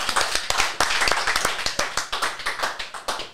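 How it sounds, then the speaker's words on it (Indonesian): A small group claps in a casual studio setting, distinct sharp hand claps in an uneven rhythm, close and crisp, each one decaying quickly with no talk over them. "Bonar, tepuk tangan"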